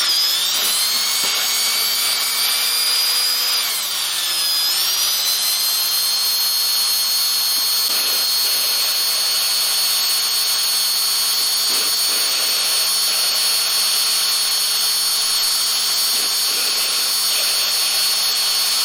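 Power tool spinning an engine valve against its seat during lapping with lapping paste on a GM LS cylinder head, a steady loud whirring drone with a brief dip in pitch near the start, continuous and alone.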